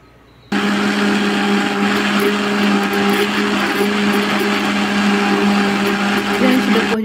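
A blender whirs loud and steady for about six and a half seconds after a brief quiet start, blending a mix of gelatin dissolved in hot water and a box of condensed milk for a two-ingredient ice cream.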